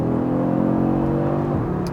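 Audi S3 with the sports exhaust and variable valves pulling hard under acceleration, a smooth rising engine drone that swells and then shifts pitch near the end, heard close with no talking.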